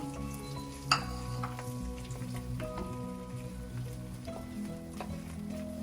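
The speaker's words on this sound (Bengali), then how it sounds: "1 চামচ তেল দিয়েছি আর 2টো ডিম দিয়ে ডিমটাকে একটু নাড়াচাড়া করে ঝুড়ো ঝুড়ো করে নিব" Two eggs scrambled and stirred in a spoonful of hot oil, a quiet steady crackle and patter of frying with occasional scraping strokes and one sharp clink near the start, close and soft.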